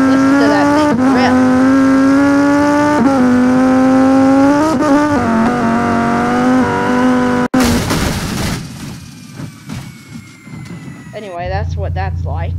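A Cherrier Vivace race car with a roll cage in BeamNG.drive, its engine holding a loud high rev with brief dips, then cutting out into tire noise and a rising, wavering whine near the end.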